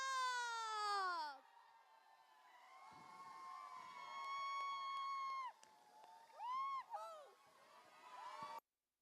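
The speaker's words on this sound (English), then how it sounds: "This is the moment. Everyone on your seats, cheer it up." Crowd cheering and shouting at an esports grand finale of a mobile MOBA tournament, loud excited voices and whoops rising and falling over about nine seconds with sustained tonal calls mixed in.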